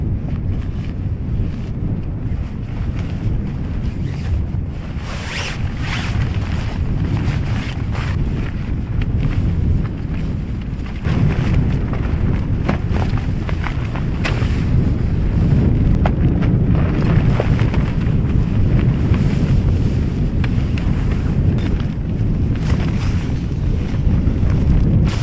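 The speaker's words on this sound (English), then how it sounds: "Can't get the shelter up, folks, it's too windy." Strong wind on a North Wales beach during a beach-casting fishing session: loud, rumbling gusts buffeting the microphone for the whole stretch, surging heavier past the midpoint, with faint surf beneath and no talking.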